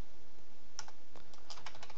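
Quick, light keystrokes tap on a computer keyboard, a short burst of a few clicks close to the microphone over a soft steady hiss.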